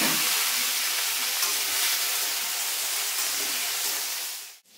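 Mango pieces hit hot spices (roasted cumin and generous fennel) for a pickle, giving a loud, close, steady sizzle and frying hiss that cuts off abruptly at the end, with no talking.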